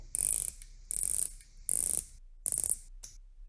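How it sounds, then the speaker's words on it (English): A dive watch bezel is turned in four or five quick bursts of close, crisp ratcheting clicks, with short pauses between turns and a faint final click, without speech. "I like the sound of the bezel."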